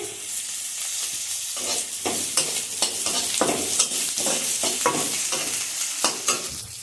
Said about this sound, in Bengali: সবগুলো একসঙ্গে ভালোভাবে ভেজে নেবো